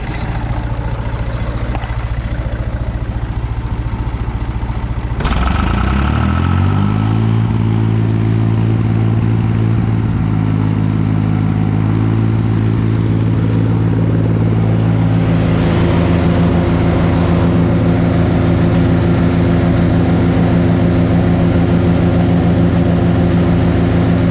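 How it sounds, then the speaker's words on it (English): A 484 tractor engine starts up around five seconds in and runs steadily, then climbs to a higher, faster idle after about fifteen seconds, loud and close with no talking. "we're going to check and see what high idle is."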